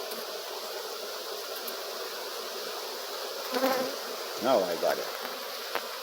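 A steady dense buzz of honeybees fills the air close by while an open beehive is removed in Jamaica, with a brief voice and a few handling noises rising over the drone.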